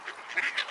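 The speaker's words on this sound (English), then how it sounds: "Lots of bird action going on here" Short nasal quacks from ducks, a couple of bright calls close by within under a second, with light background hiss.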